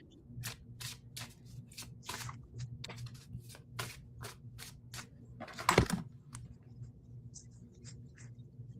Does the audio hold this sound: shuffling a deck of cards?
yes